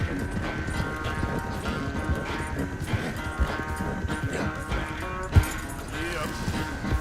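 Horse hooves clip-clopping at a steady trot in Red Dead Redemption 2, a continuous patter of soft beats mixed with game ambience while a voice talks over it.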